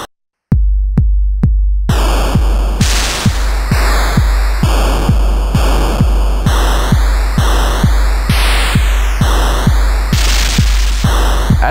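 Analog-style noise snare samples fired repeatedly on a sampler, with the sample start randomly modulated by an LFO: a few quiet hits, then a steady rapid run of loud, noisy, punchy snare bursts, each with a slightly different character.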